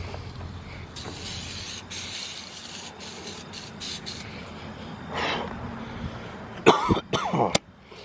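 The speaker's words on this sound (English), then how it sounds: "you got the right stuff when it makes you cough" Strong engine-cleaning spray hisses in sustained bursts on a junkyard Honda D16Y8 engine being torn down, followed near the end by a few sharp, close coughs.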